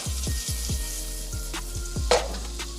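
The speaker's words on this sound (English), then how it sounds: "Butter's melted. Adding in a little bit of garlic." Minced garlic sizzling in melted butter in a pan for an Alfredo sauce, a steady close frying hiss with faint stirring scrapes, no voices.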